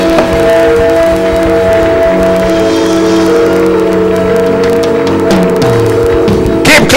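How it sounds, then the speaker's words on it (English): Congregation at a lively worship service clapping and cheering loudly and continuously, crowd noise blending with sustained music tones throughout. "Keep clapping for Jesus."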